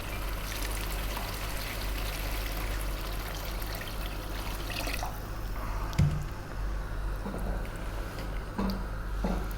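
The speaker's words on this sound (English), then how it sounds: "we're going to be adding 6 cups of water" Six cups of water pouring steadily into a cooking pot, a continuous gurgling trickle with a low hum underneath and a couple of small clanks.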